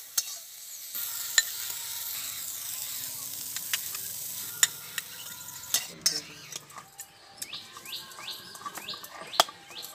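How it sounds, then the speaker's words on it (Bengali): Brahmi greens stir-fried in a pan make a soft sizzle broken by sharp metal spatula scrapes and clinks against the pan, while birds chirp outdoors in the background late on. "কিন্তু নেড়ে চেড়ে ভালো করে ভেজে নিতে হবে।"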